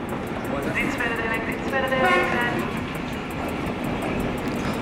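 A train at Gent-Sint-Pieters railway station in Ghent, Belgium, rumbles steadily nearby, with brief tonal horn-like blasts rising over the rolling noise and a faint ticking rhythm of wheels.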